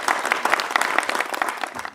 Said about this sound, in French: Nous allons applaudir pour Broly et pour Pasta.